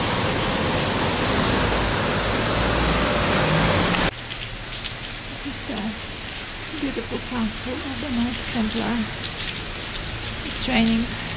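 Heavy rain pours down in a dense, steady roar, then continues more softly under a person talking nearby.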